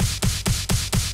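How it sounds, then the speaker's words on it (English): A snare clap sample in FL Studio for a progressive house track hits five times in an even, quick rhythm, each a bright, noisy clap with a short tail, loud and close with no voice. "It's comprised of a snare clap,"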